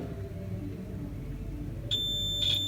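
A multimeter on continuity range beeps during a polarity test on a component, sounding a sharp high electronic tone that starts partway through and briefly breaks before resuming, over a quiet background.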